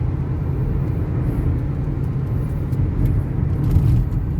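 Steady low engine drone from a 2008 Toyota Altis cruising in fifth gear at 2000 rpm, a continuous even rumble with no surging, heard close and alone.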